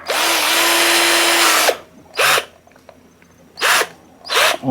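An IRONMAX cordless right angle drill whines at full speed for nearly two seconds, then fires in three short bursts separated by brief pauses.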